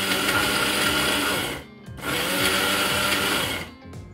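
A small electric kitchen chopper whirs loudly and close while blending chutney. It runs steadily, cuts out briefly for a short gap, then starts again before stopping near the end.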